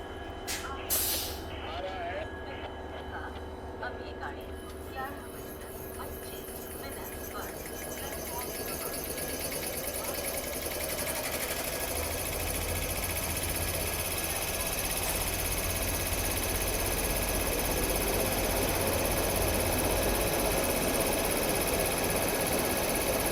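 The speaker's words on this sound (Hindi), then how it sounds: "अब पेंटोग्राफ ऑन करेंगे। साउंड सुने का बस लोकोमोटिव ऑन होने का आप लोग" Electric locomotive powering up after its pantograph is raised: a hiss and clicks give way to a steadily rising, dense electrical hum and blower roar that builds over about ten seconds and holds loud.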